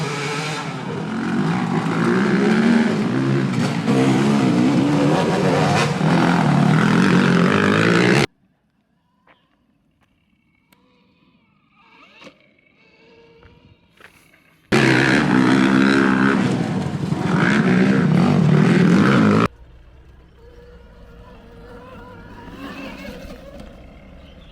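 Combustion dirt bikes ride a motocross track, their engines roaring loud and close in two long bursts separated by quieter stretches of distant engine noise.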